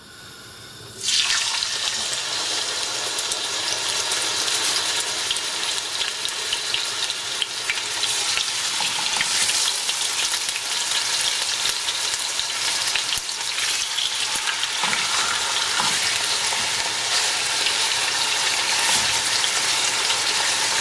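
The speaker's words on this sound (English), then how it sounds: "next we're gonna brown the meat on both sides for about a couple of minutes" Pork chops browning in hot oil in a pan, a loud steady sizzle that bursts in suddenly and keeps going unbroken, close and with no talking.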